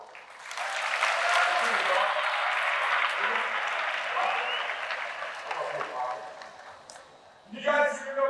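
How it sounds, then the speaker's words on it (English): School assembly crowd in a high school gym applauding a kid called up front, a loud sustained clapping with some cheering that slowly tapers off, followed by someone speaking. "Round of applause for this kid."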